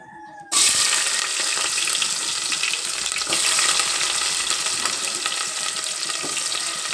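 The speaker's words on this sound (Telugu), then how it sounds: "ఇప్పుడు ఉల్లిపాయలు వేసుకోవచ్చు." Sliced onions frying for a chicken curry: a loud, steady sizzle bursts in abruptly and holds close and dense throughout, with faint stirring scrapes beneath and no talk.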